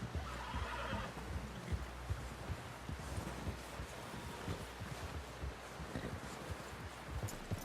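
A horse in Red Dead Redemption 2 whinnies amid rustling and soft hoof clops, fairly faint against a steady outdoor wind bed.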